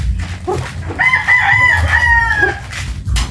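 Chickens on a farm cluck and a rooster crows, loud and close, with overlapping calls sustained across the middle and no talking.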